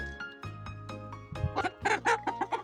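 A hen clucks in a farmyard where rabbits are also fed, giving a run of short, fairly quiet clucks that quicken into a rhythmic series near the end.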